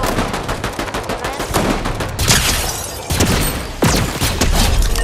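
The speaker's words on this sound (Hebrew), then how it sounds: "יש שם יריות, אני בשוק" Sustained rapid gunfire in a Star Wars video game, loud and dense throughout, with bursts and sharper blasts swelling at several points and no talk over it.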